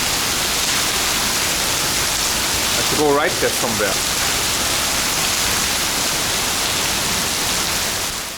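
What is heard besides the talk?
heavy tropical rain pouring down in Singapore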